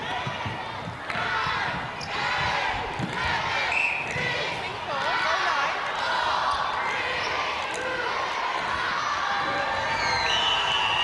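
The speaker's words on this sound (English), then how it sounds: "Well, the crowd counts it down" A netball crowd in Sydney chants and cheers through the closing seconds of Malawi against Singapore, a dense roar of many voices with ball bounces and whistles in the arena, loud and continuous.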